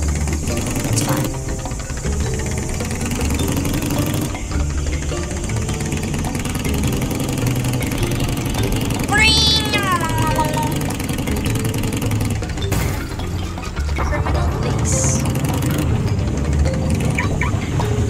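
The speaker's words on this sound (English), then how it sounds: "I look super cool riding my dirt bike" Dirt bike engine in the Mad City video game, a steady mid-pitched buzzing drone running loud and continuous through the whole stretch, with a brief whistling tone partway through.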